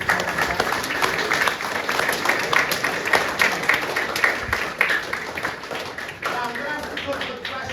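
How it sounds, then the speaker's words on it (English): An audience at a player pathway presentation gives a round of applause for young football players, with dense clapping and scattered sharper claps, and some voices faintly under it. "So a big round of applause for all those players."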